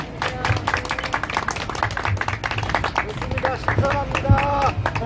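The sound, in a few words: audience clapping at an outdoor rally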